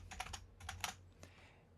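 Bursts of computer keyboard typing, three quick clusters of clicky keystrokes followed by a single tap, close and fairly quiet, with no voices.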